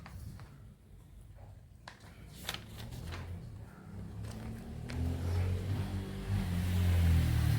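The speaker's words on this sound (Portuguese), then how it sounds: "Hoje tem muita moto aqui, viu?" Many motorcycles pass outside a church, a low engine rumble that is distant at first and grows steadily louder and heavier toward the end, with faint clicks and no talking.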